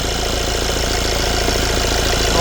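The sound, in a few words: Mini engine running at idle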